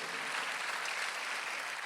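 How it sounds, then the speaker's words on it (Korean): A congregation claps during a Sunday church service for a short, steady burst. The applause is moderately loud and even, and a sharp bump at the very end cuts it off. "박수를 치며 하나님께 영광을 내세요"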